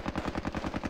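Rapid automatic gunfire from the Squad Battles video game, a fast steady burst of evenly spaced shots repeating through the whole second, loud and alone with no talking.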